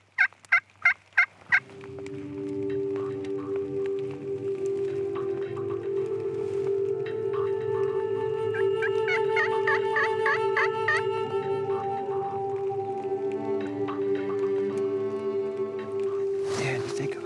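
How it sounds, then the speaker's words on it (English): A wild turkey gobbles in a quick burst of rapid notes on a Wisconsin ridgetop, then a long steady droning sound follows, with a few more distant rattling calls later. "We're getting close to where we heard this gobble a couple times."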